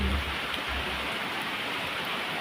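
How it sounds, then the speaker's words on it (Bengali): Heavy rain falls steadily on a day of nonstop downpour, making a dense, even hiss of drops with a low rumble underneath. It is loud and continuous, with no voices. "প্রচুর বৃষ্টি হচ্ছে"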